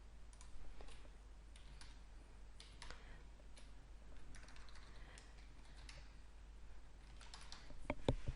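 A new email is typed on a computer keyboard, with faint, steady key clicks in irregular bursts over a low hum and a few louder taps at the end; no talk.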